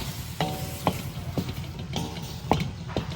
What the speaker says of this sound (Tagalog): gisa naman natin yung ating kalabasa